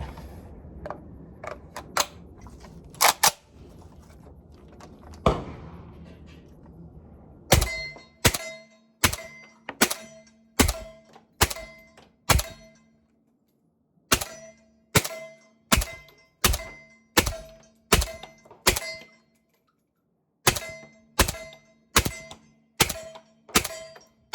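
A Galil Ace rifle fires suppressed Brown Bear subsonic 196 grain rounds in a steady string of roughly twenty sharp, muffled cracks, each followed by a brief decay. A few scattered shots and clatter come first, and no one speaks.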